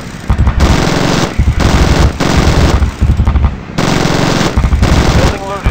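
Sustained bursts of heavy machine gun fire from a gunship in the video game Zombie Gunship Survival, loud continuous rattling broken by brief pauses, with a faint radio voice near the end.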